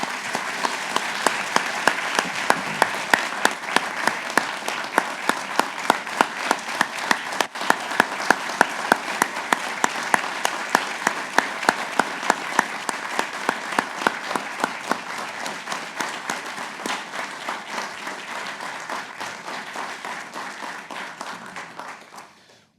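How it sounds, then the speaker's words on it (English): Sustained audience applause at an award ceremony honouring public service winners, dense steady clapping from a large crowd lasting about twenty seconds before tapering off and stopping, with no talk over it. "let's go ahead and give them a round of applause"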